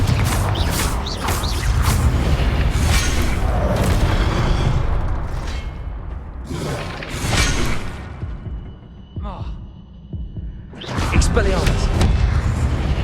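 Confringo fire spell blasts in the Hogwarts Legacy video game, loud booming bursts with crackling debris that come in waves, then a short quiet gap and another blast, all under busy game effects.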